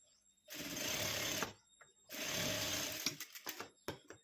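Sewing machine stitching a boat-neck tucked blouse: two sustained runs of a second or so each, separated by a pause, followed by several short clicks and brief bursts as the stitching is adjusted, close and clear.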